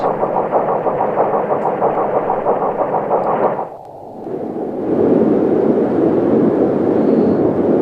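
Low, steady engine rumble of a destroyer heard on a submarine hydrophone in the game Silent Hunter 4, with a rhythmic churning throb, dipping briefly before swelling back louder and broader, like propellers underwater.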